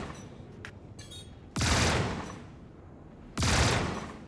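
Side turrets on a spaceship fire in the Star Citizen video game. Two loud, dense bursts of rapid fire, each lasting about a second and then fading, follow a few faint earlier blips.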